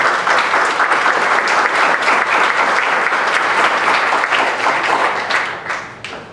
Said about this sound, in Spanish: Suplico a todos ustedes brindarles un fuerte aplauso.